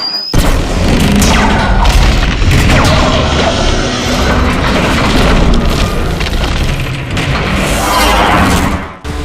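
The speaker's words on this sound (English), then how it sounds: "Finally, the bridge is destroyed." A bridge is blown apart in a Transformers video game cinematic: a loud, sustained booming explosion with crashing debris and rumbling that rolls on for about nine seconds before cutting off abruptly.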